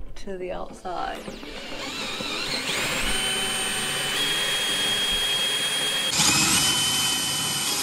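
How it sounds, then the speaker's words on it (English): A power drill bores a hole through a wall to the outside for an RV power hookup cable, a loud sustained high whine that holds steady and rises slightly near the end, with brief knocks at the start. "We are now drilling a hole to the outside."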